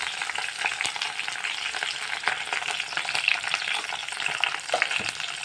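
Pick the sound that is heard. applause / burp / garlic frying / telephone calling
garlic frying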